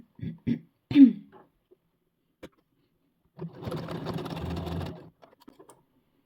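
A sewing machine stitching a dress runs in one short burst of about a second and a half, after a few soft coughs and throat clearings and small taps, in an otherwise quiet room.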